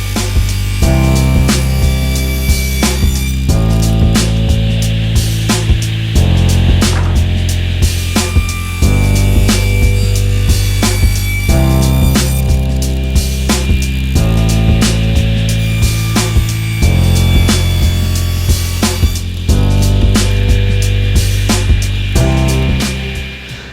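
Loud power saw cutting 30-degree bevels on wooden boards, a steady whining drone broken by repeated cuts at regular intervals, continuous and close without talk.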